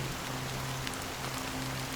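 Steady rain falling in Honkai: Star Rail, a continuous soft hiss of drops on a surface with a low sustained hum beneath, even and unbroken throughout.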